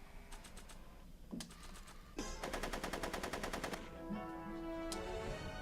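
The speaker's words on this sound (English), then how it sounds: "Are you shooting at me?" Rapid bursts of machine-gun fire rattle out in the Back to the Future video game, several separate volleys of fast, evenly spaced shots, crisp and near.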